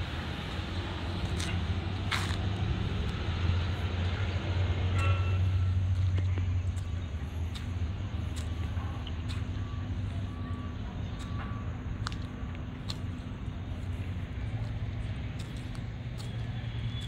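A truck is moved while its reversing alarm gives evenly spaced, faint beeps over a steady engine rumble in the background.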